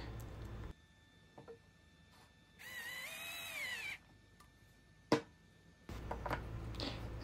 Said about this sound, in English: it makes it easier for me to drive the screws this way